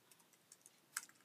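A few light, scattered keystrokes on a computer keyboard while a chatbot prompt is typed in Python, faint and irregular in a quiet room.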